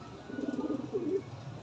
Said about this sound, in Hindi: ये सारे कबूतर आ गए।